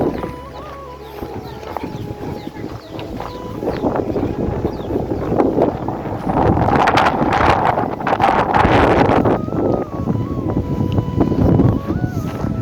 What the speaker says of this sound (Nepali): पुरै हावा चलिरहेको छ मस्त